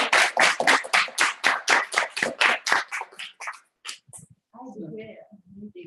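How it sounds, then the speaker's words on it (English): A small group at a reconciliation conference in Tokyo claps in a steady, rhythmic series of loud, distinct claps that slows and thins out, followed by a few voices murmuring. "Let's give a big applause."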